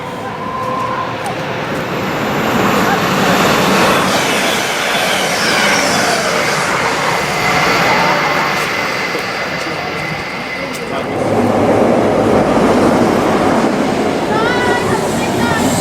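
A Grand Central passenger train bound for Bradford runs through Peterborough station. A loud, sustained rumble of rolling stock with wheel noise and faint squeal fills the clip, and people talk over it.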